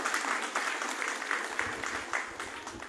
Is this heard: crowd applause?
yes